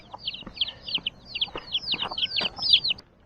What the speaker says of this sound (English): Oh, some little chicks on the path.